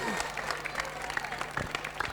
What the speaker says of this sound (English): Crowd having a great time, getting a little vocal, getting vocal on every shot